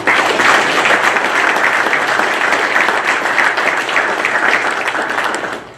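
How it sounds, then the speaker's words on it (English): Steady, sustained applause from a room full of people at a golf association annual meeting, loud and even throughout. "don't know if Jamie, you're in the room, but I just want to give a nice round of applause for him and the team at Virginia Country Club again."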